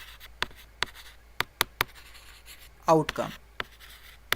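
Marker or chalk strokes on a board, a handful of short, sharp taps and scratches spread out irregularly, with a brief spoken word cutting in partway through.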